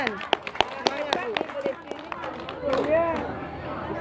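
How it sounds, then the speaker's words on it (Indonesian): Scattered applause from an audience at an Islamic religious talk, a handful of distinct hand claps spaced unevenly, with voices murmuring and a speaker's voice around them. "Tepuk tangan."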